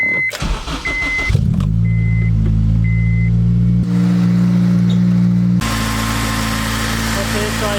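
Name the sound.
car driving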